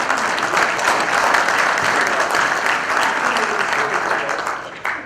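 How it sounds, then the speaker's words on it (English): Warm, continuous applause from an audience at a George Washington Carver lecture series event, a full, even roar of clapping that lasts about five seconds before tapering off abruptly at the end. "A round of applause to both of those individuals"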